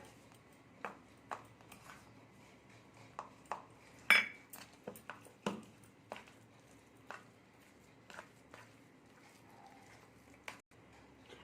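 Spoon stirring a sabudana mixture in a bowl, making soft, scattered clinks and scrapes at an irregular pace, fairly close and quiet.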